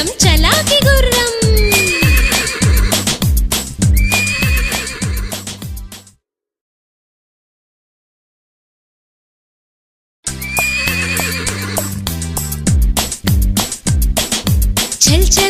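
A cartoon horse neighs and whinnies repeatedly amid rhythmic clip-clop hooves in an animated Telugu children's rhyme, loud and lively, with a gap of silence midway before the neighing and hoofbeats resume.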